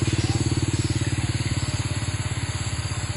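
A motorcycle engine idles or putters close by, its steady rapid pulsing thrum continuing throughout over a faint road hiss.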